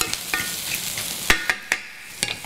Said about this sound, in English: Start browning the onions, getting the aromatics going a little bit.